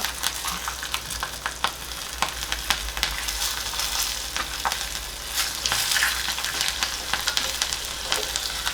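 Asafoetida, curry leaves and chillies crackle and sizzle in hot oil for a tempering poured over Gujarati khandvi bites, a steady dense hiss with sharp pops throughout, close and loud with no talking.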